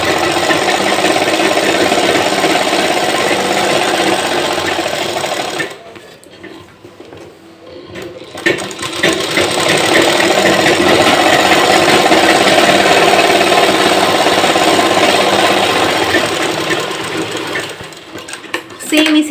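Sewing machine running fast and loud while stitching the crotch seam of a pair of pants, a steady whirring drone that stops for about two seconds and then resumes for a longer run, close to the machine, with no talk over it.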